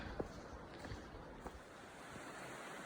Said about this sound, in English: Here's the river down to my left. So a nice combination of sights and sounds.